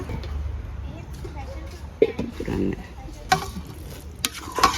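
A spoon stirs a sweet imbul kiribath rice and coconut-milk mixture in a pot, with scraping, knocking clinks and soft sizzling under ongoing background voices.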